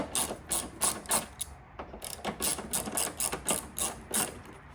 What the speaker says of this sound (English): So once I release these 3 bolts on the top, we can remove the shock.